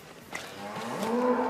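A single cow gives a long, building moo close by at an agricultural show with livestock pens, the low drawn-out call swelling louder toward the end.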